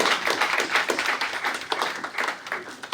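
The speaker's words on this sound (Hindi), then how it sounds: "नीलम मैम प्लीज, तालियां की गड़गड़ाहट रुकनी नहीं चाहिए।" Guests at a retirement party for an administrative officer clap in a lively, close round of applause, with individual claps audible in an uneven rhythm and faint voices underneath.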